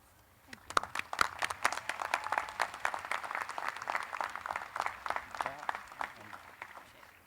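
Crowd applauding at a 2016 spring university commencement ceremony for USC Upstate, a dense, steady wash of many hands clapping for several seconds, moderately loud throughout with no voices on top.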